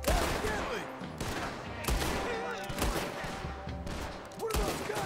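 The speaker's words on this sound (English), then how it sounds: "What are those guns they have?" Repeated loud gunfire bursts from a shootout in Red Dead Redemption 2, with rolling echoes and a faint voice underneath.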